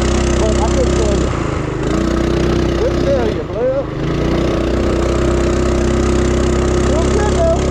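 A propane-powered Mega Moto 212cc mini bike engine runs steadily at a loud, close idle, its drone continuous with a brief dip midway and no speech heard.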